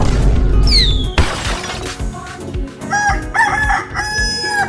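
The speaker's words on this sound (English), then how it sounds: "Chicken." A rooster crows once, loud and close, with a rising then falling call, followed by a crash of breaking glass and then fluttering clucks over a busy game backdrop.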